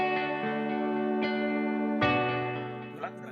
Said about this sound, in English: The rubber band starts vibrating.